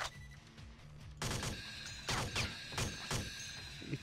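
Bursts of gunfire ring out in the shooter game Alpha Prime, a volley of sharp, loud shots coming in quick clusters with brief gaps between them, no voices.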